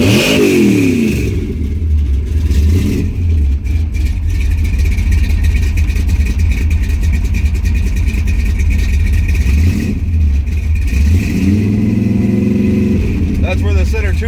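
An old muscle car that had been sitting revs hard from idle, loud and close, with a couple of rising surges and a long held roar before dropping back.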